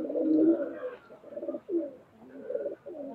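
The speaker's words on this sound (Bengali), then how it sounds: "সুপার কোয়ালিটির টেডি কবুতর" Teddy pigeons in a loft coo in soft, low, rolling phrases, several calls in a row with brief pauses, close and clear with no talking.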